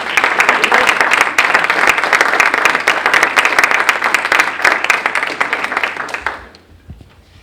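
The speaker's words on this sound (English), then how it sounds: "You can clap for them, it's okay." Audience clapping for senior project students at a high school community night, energetic crowd claps with sharp individual hits, fading out over the last second into near silence.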